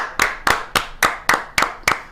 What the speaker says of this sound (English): round of applause for Ben Johnson